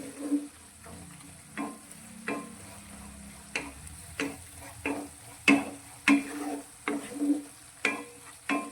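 Masala gravy for a bottle gourd curry being sautéed in oil, a steady low sizzle broken by repeated sharp scraping strokes of a spoon stirring the pan, close and alone.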